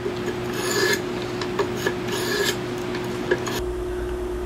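A folding knife blade is sharpened to a mirror-polished micro bevel, a close steady rasping rub with a few light ticks that stops near the end, leaving a low hum.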